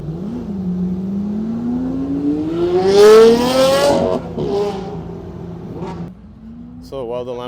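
Several Lamborghini Aventadors revving hard at a Tokyo car show, a loud rising engine wail that climbs in pitch and drops off, followed by a brief crackling blip from another car.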